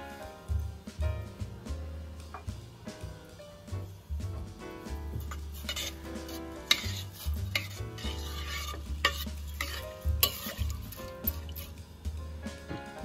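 Rice for Egyptian-style pilaf being stirred in a pot, with repeated scraping strokes and soft sizzling and clinking of the spoon, close and fairly quiet, in an irregular rhythm.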